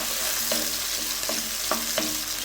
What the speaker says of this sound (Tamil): வெங்காயம் தக்காளி நல்லா வதங்கிச்சு